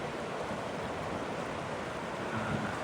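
River water flows and churns as hikers wade across a river on the Appalachian Trail, a steady broadband rush with some wind buffeting and no speech.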